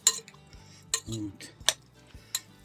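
A metal spoon scrapes and clinks against a pan in irregular strokes, close by, stirring fatty minced meat with soft stirring sounds between the clanks.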